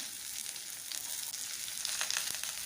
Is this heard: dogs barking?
no